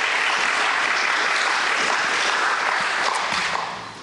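Audience applause at a district attorney debate, a dense, steady wash of many hands clapping that carries on evenly, then begins to fade near the end.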